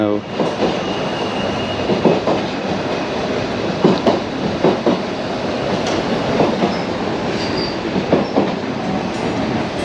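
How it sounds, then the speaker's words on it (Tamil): Loud, continuous rumble and rattle of a Swiss train rolling along the rails near Lauterbrunnen, with rhythmic clatter from the wheels passing close by. "இங்கே பாருங்கள் ட்ரெயின்."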